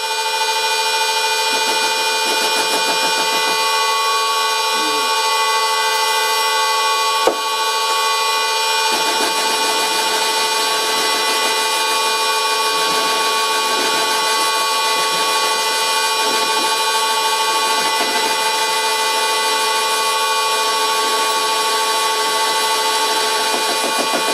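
A restored old metal lathe takes its first cut at 400 RPM, a steady, loud mechanical whine with sustained tones running unbroken throughout, interrupted only by one sharp click midway.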